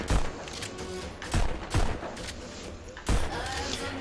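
Pistol gunfire in the VR shooter game Pistol Whip, several punchy shots in an uneven rhythm over a busy music-like backdrop, loud and close.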